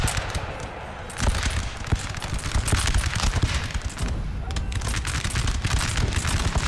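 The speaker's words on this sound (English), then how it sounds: "Oh no, this is artillery." Battle gunfire in Napoleon: Total War: dense, crackling volleys and booming 12-pounder cannon shots roll on without pause, loud and continuous, with a voice faintly under the din.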